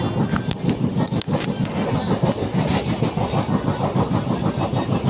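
Passenger train on the Howrah to Kanyakumari route, a steady loud rumble of wheels and engine with rhythmic clattering pulses throughout, a few sharp clicks near the start, no speech.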